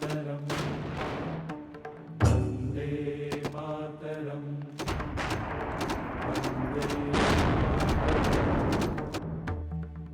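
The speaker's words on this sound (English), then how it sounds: "and this whole thing was brought under artillery fire" Artillery fire pounds a mountain bunker during the Kargil War, with repeated sharp booms and bursts of gunfire over a rumbling, dense battle din that keeps going.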